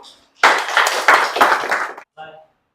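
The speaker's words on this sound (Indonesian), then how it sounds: "Tepuk tangan untuk" Applause from an audience after a talk in a teaching session, a burst of clapping about one and a half seconds long with a short trailing sound after it.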